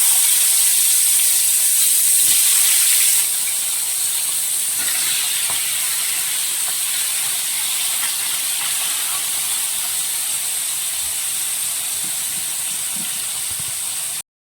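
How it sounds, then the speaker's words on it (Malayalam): Fish frying in a pan for Bengali fish curry, a loud steady hiss of hot oil that is fiercest for the first few seconds, then settles to an even sizzle, close up with no voices. "നമുക്ക് ഒന്ന് ഫ്രൈ ചെയ്തെടുക്കാം കേട്ടോ"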